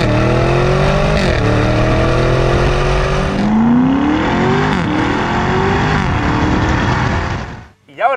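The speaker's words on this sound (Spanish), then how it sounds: "todo esto con un sonido del escape que es Akrapovic y que es de serie" A Lamborghini Urus Performante with 666 hp and a factory Akrapovic exhaust accelerates hard, its loud engine note rising through the revs with a gear change partway through, then cutting off abruptly near the end.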